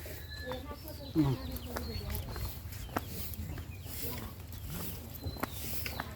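Faint clucking and peeping of chicks with scattered bird chirps in a quiet farmyard with goat kids, soft voices murmuring in the background.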